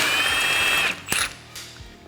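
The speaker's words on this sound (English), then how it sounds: "And we'll go ahead and remove the castle nut." An impact-style power tool whirs briefly at high speed to spin off the axle castle nut on a Honda Talon 1000R, then stops with a short clank of metal parts, close and loud.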